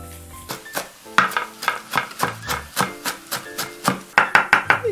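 Rapid, regular cleaver strikes chopping parsley on a cutting board, about a dozen sharp chops in a steady rhythm, close and crisp, with a quick flurry near the end.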